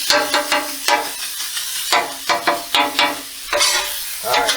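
Meat frying on a Blackstone griddle outdoors, a loud, close sizzle cut by a rapid run of spatula scrapes and taps in an uneven rhythm, with no talking.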